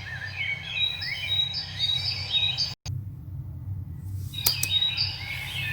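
Many small birds chirp and tweet in quick, overlapping bursts against a steady low background hum, with a brief dropout midway before the calls return, fairly close and lively.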